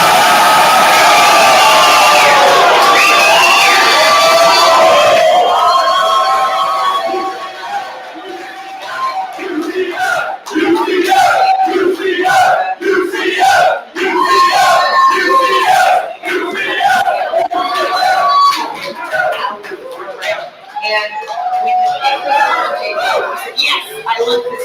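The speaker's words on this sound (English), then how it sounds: "Let's get that crowd reaction here." A large crowd at the 2023 NBA Draft roars and yells after the Utah Jazz select Taylor Hendricks, a loud wash of cheering that gives way to excited shouts and chatter from a nearby group.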